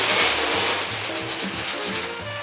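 A Scotch-Brite pad wrapped around the tip of a screwdriver scrubs the corners of a bare-metal car body during prep for epoxy primer, making close, steady rubbing and sanding strokes with a fast back-and-forth rhythm and no talking.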